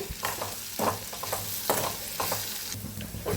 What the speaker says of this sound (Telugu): చూసారా ఫ్రెండ్స్, చక్కగా ఫ్రై అయిపోతుంది